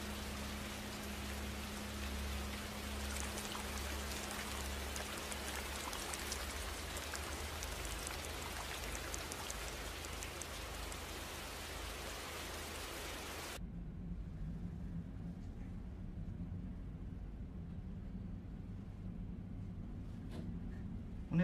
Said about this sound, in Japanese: この雨やむかな。